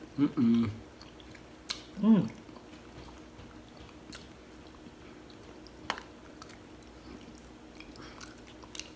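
Chewing raw honeycomb wax with lemon: a few soft, sticky, wet mouth sounds and squishes close up near the start, then quiet with faint clicks.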